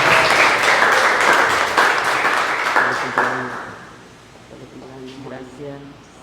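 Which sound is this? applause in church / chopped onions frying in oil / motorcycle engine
applause in church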